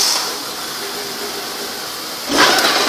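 Engine of a 2007 Honda CR-V idling with a steady mid-pitched hum, then swelling louder near the end as it is shifted toward gear; close and alone, with no talk.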